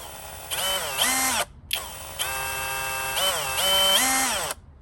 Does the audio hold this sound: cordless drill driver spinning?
yes